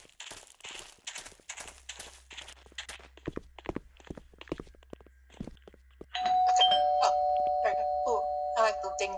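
A doorbell chimes in a Roblox trick-or-treat game, ringing out as a sustained electronic ding-dong tone after a stretch of quick footstep-like taps and brief game sounds, loud and clear near the end.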